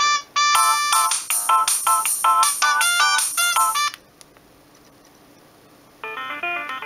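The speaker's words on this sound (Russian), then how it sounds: "Каждое утро слышал эту мелодию из маминого телефона." A Sony Ericsson Z710i mobile phone plays its polyphonic ringtone melody loudly and alone, a bright run of electronic notes for about four seconds, then a pause and the tune starting again.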